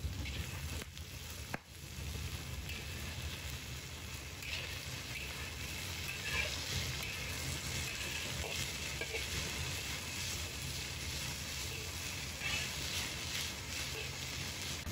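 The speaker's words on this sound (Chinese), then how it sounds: "我们下入木耳、胡萝卜、苦瓜，大火煸炒半分钟。" Wood ear mushroom, carrot and bitter melon are stir-fried over high heat with garlic slices, producing a continuous close sizzle with soft scraping and tossing for fifteen seconds, with no voices.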